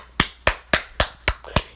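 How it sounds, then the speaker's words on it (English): Six sharp hand claps ring out alone in a slow, steady rhythm, each crisp and close with a quick decay. "I give claps to you"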